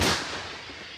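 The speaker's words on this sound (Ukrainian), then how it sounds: "Гармата! Постріл!" A single heavy artillery cannon blast bursts out at the start, then a long rumbling decay rolls on for about a second with no talking.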